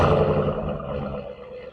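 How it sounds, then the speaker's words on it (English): A 2022 Dodge Durango R/T with stock exhaust revs up with a deep, throaty roar that holds steady and then gradually eases off, fairly loud and close, with no talking. "for a stock exhaust, doesn't sound too bad"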